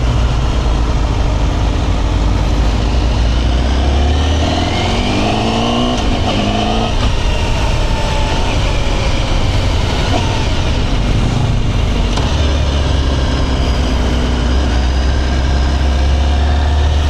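Honda CBR1000RR-R Fireblade motorcycle with full stock exhaust revving hard on a test ride, a loud, continuous close engine roar with rising and falling pitch sweeps as it accelerates through gears.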